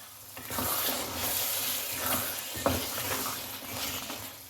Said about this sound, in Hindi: 1 टेबल स्पून शुगर, इसको मिक्स कर दें।